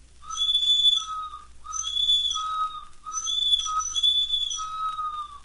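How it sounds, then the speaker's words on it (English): The little engine's whistle rings out in repeated bright, warbling multi-tone blasts, four long calls in a row at moderate loudness with no talking over them. "just then they heard a whistle"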